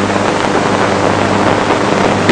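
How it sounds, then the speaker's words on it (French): A hydraulic tensile testing machine's motor drives its oil pump in a closed circuit, holding a steady, loud mechanical hum with a low droning tone from start to finish and no voices over it. "Mettons en route le moteur."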